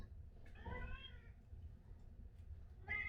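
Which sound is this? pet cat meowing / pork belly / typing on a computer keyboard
pet cat meowing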